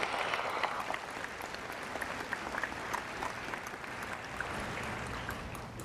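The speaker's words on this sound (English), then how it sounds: "Let's give those folks a round of applause." A commencement crowd at UAFS gives legislators a round of applause, many hands clapping in a steady, somewhat distant wash with scattered sharper claps.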